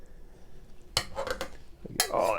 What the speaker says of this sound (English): So give that a bit of a mash